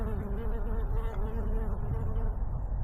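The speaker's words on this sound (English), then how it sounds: "Oh, look at the bumblebee buzzing around." A bumblebee buzzes around flowering plants such as California lilac in a hillside botanical garden, a steady low drone that holds close and fairly loud through the whole stretch.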